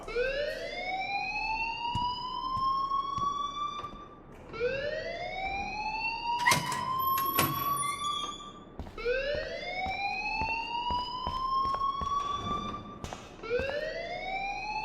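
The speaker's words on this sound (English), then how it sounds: "please turn off that alarm since that's your job." A school alarm in the Life is Strange video game wails in repeated rising electronic sweeps, four cycles in a row, loud and alone with a few clattering knocks in between.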